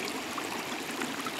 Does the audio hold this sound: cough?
no